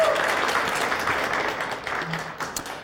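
Conference audience applauding a startup pitch on a main stage, a dense sustained wash of clapping from a large crowd that fades slightly toward the end.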